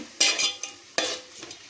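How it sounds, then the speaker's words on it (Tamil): Onions with salt being sautéed in an oiled pan, a spatula stirring and scraping in a few distinct strokes over a soft sizzle, close and alone. "உப்பு போட்டுட்டு நல்லா ஆனியன் வதக்கிக்கலாங்க"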